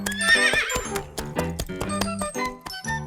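A horse whinnies loudly near the start while hooves clip-clop in a steady riding rhythm with faint jingling tack, continuing to the end with no talking.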